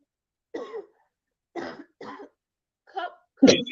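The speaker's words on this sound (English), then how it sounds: "I'm coughing" A person coughs in short separate bursts, three or four dry hacks spaced about a second apart, ending with a louder, harsher cough, close and alone with silence between.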